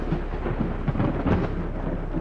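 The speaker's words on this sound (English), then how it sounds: "Storm's really coming down tonight." Steady rain and a rumbling thunderstorm in a horror video game set at night outside an apartment building, a continuous dense wash of downpour with low rolling thunder swelling near the middle, no talking.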